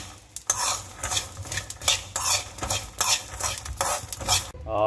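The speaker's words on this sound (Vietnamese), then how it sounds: "Rồi đây bắt đầu chiên trứng." Eggs frying in a pan, with bursts of sizzling and a utensil stirring and scraping against the metal in a repeated rhythm, close and fairly loud with no talk.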